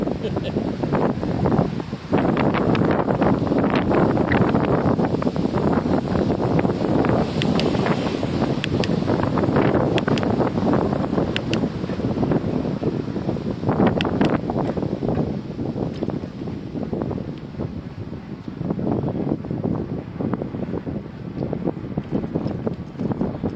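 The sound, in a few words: wind while riding Cyrusher Grace e-bike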